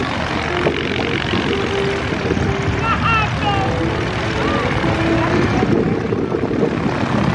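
The radial engine of a vintage Stearman, Waco or Travel Air biplane turns over at an airshow, giving a steady rough chugging drone under people talking nearby, with faint chirping above it.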